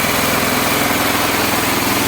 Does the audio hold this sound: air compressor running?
yes